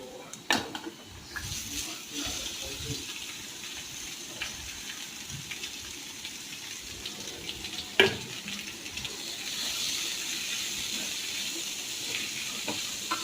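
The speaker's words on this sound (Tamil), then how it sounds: "வெங்காயம் நல்லா கோல்டன் ப்ரௌன் வர வரைக்கும் வதக்கிக்கலாம்" Onions sauté until golden brown in a pan, sizzling steadily with an even frying hiss, broken by occasional clinks and scrapes of stirring.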